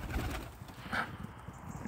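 Pigeons in a loft give a soft, low coo once, faint and close, amid quiet background rustle with no talking.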